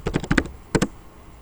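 Short bursts of computer keyboard typing while entering code: a quick run of about five close keystroke clicks, a pause, then two more taps, with no talking.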